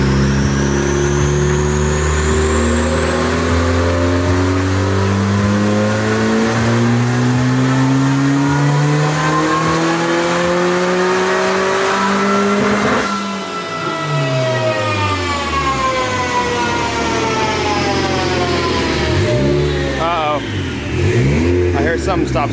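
An engine fitted with a cheap eBay turbo revs hard on a dyno, its pitch climbing steadily, dropping sharply midway and then rising again as it winds up. Loud and continuous throughout, with voices faintly under the roar.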